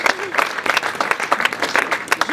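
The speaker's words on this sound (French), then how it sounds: "Vous pouvez l'applaudir aussi parce qu'il est très présent." Brief burst of audience applause at a French community gathering, dense clapping close and loud, with a voice speaking over it.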